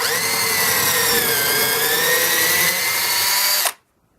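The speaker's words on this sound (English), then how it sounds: "come back with your drill mounted with the proper bit" A power drill whines loudly and steadily at high speed for several seconds while drilling pilot holes for lag bolts in a raised garden bed, then cuts off abruptly into silence.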